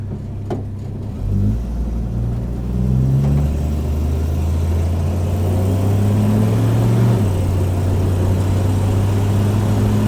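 Studebaker pickup truck with a worn 258 engine pulling away, the engine note rising through gears with a clear shift before settling into a steady loud drone from inside the cab.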